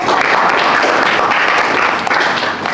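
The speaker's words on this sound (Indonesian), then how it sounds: "Berikan tepuk tangan untuk" A crowd applauds steadily at a teacher-training group presentation session, a dense wash of many hands clapping at once, sustained throughout and fading slightly at the end.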